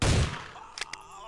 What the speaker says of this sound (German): Ein Schuss, ein Treffer.